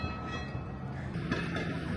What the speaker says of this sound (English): they were made out of converted automobiles and kind of replaced the steam trains